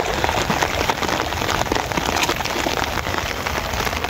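Rain falling steadily over a wetland during dawn fishing with a current net, a dense, even patter close by with no talk.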